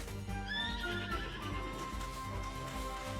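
A horse in Princess Peach Showtime neighs with a rising, wavering whinny over clip-clopping hooves and background game music, moderately loud.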